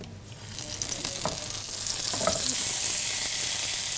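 Eggplant pieces rubbed with turmeric, chili and salt fry in hot oil, giving a steady, close sizzle that swells after the first half second and holds loud and even, with faint stirring clatter and no voices.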